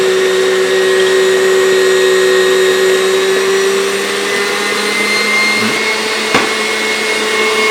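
A stand mixer whips marshmallow mixture with melted gelatin, a steady, loud motor whir that holds an even pitch throughout, with one brief clink near the end.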